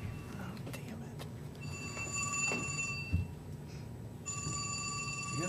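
Phone ringing during a county commission meeting, a faint electronic ringtone with steady repeated tones in two bursts, heard at a distance in a room with low background murmur.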